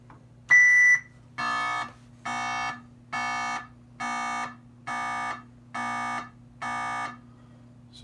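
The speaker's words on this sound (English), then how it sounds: "Okay, the first beep was bad." A 1978 Atari Super Breakout arcade circuit board sounds a diagnostic test: one higher, sharper beep followed by seven evenly spaced, identical buzzy beeps, steady and clear over a low electrical hum.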